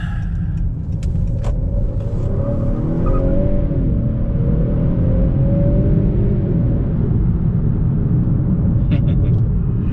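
A 2022 Honda Accord Sport 2.0T with a 10-speed, floored in sport mode from inside the cabin: loud, close engine rumble whose tone climbs steadily through the gears as the turbo builds, continuous throughout.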